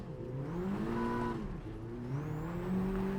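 A 2022 Honda Civic Type R engine on the Lake Louise long track revs up and down through the gears, fairly quiet and heard from inside the car, with no talking.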